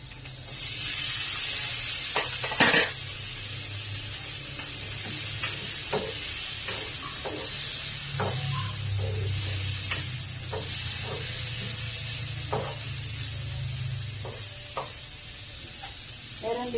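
Pork hitting a hot pan with garlic and onions for pork broccoli: a steady, close sizzle and hiss throughout, broken by scattered clicks and scrapes of a spoon stirring against the pan.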